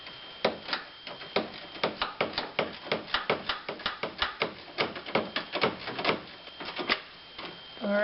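Rapid ratcheting clicks from a wrench snugging bolts on a front-end bracket of a 2001 Buick Century, a close, steady run of sharp ticks with brief pauses and a short gap near the end.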